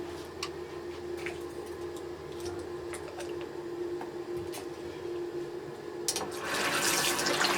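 Cold tap water runs into a basin for prewashing passion twists: a quiet room with low hum and small ticks gives way near the end to a louder, steady rush of flowing water.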